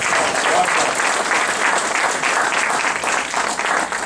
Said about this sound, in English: Sister Aisha, another round of applause.